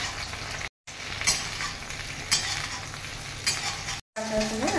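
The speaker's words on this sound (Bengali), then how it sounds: "ঝিঙেটাকেও একটু নাড়াচাড়া করে দিলাম" Ridge gourd frying in a kadai over a gas flame is stirred, giving a steady oil sizzle broken by scraping and clattering stirs, with two brief silent gaps and no talk.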